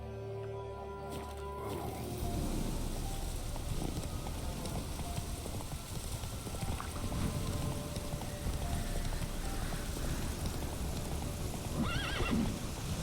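Geralt's horse Roach in The Witcher 3: Wild Hunt gives a loud, close neigh, followed by steady clip-clopping hooves on a dirt path under outdoor ambience, with another whinny near the end.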